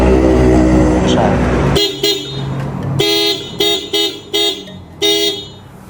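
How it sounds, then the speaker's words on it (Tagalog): A car's aftermarket G-Star dual horn gives several short, loud honks in a choppy rhythm after a moment of engine noise, the blasts sounding in a bright two-tone chord. "Dual horn. G-Star version"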